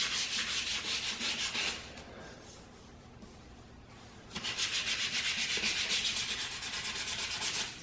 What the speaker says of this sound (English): you want to up sand in that type of motion so you don't create streaks